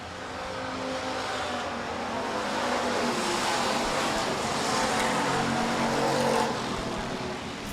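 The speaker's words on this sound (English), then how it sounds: "Three laps in, 3 laps remain here in your final heat race of the Lems Auto Recycler Sportsman cars" Sportsman stock cars in a speedway heat race at Rapid Speedway, a steady loud roar of several engines running together at speed, swelling slightly as the pack passes, with no break in the noise.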